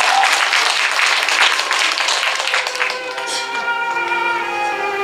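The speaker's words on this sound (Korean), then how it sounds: "여러분 박수 한번 부탁드릴까요?" An audience at a literary festival in Jirisan claps in a lively burst that gradually thins out, with music or voices carrying on underneath as it fades.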